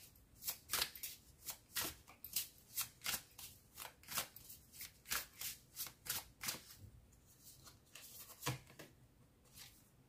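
Tarot cards are shuffled by hand for a reading, giving a steady run of crisp riffling bursts roughly every half second for about ten seconds, close and fairly quiet with no voices.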